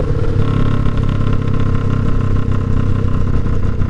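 A 2009 Kawasaki Ninja 500 EX500 motorcycle runs with a loud, steady engine and exhaust drone, a continuous rumbling buzz with slight clatter heard close up and without any voices.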